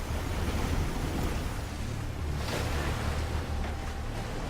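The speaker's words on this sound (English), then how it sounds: "Never underestimate the power of white moving water." River rapids from a scene in Bird Box, a loud, steady rush of churning white water filling the whole stretch with a dense roar and no voices.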